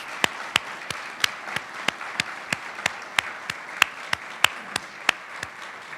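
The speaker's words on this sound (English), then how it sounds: "Please join me in giving a warm round of applause to all the families and friends." Applause from an audience at a university medals ceremony, heard as a single pair of hands clapping at a steady, even pace, sharp and close, with no voices.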